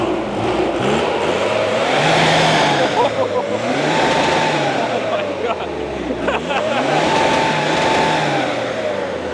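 A normal Isuzu car's engine revs loudly and steadily, rising and falling in several sweeping waves close by for the whole stretch, with a faint voice underneath.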